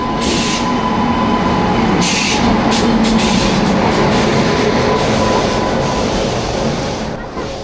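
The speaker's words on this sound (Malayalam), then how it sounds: "ഇതാണ് ഞങ്ങളുടെ ട്രെയിൻ. ഈ ട്രെയിനിലാണ് ഞങ്ങൾ പോകുന്നത്." A passenger train stands at a railway platform on the Ernakulam to Thiruvananthapuram line, giving off a loud, steady rumble with rail clatter and a few sharp bursts over roughly seven seconds, and faint voices sit underneath.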